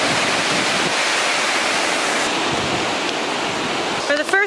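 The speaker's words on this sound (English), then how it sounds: "all of the water is raging everywhere and it looks beautiful" Rushing stream water along a hiking trail in the San Francisco Bay Area pours in a loud, steady broadband roar close by, with a brief voice-like tone at the very end.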